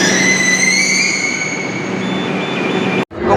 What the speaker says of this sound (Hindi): आज की मेट्रो अभी खाली है ना, इसलिए मैं इधर से आया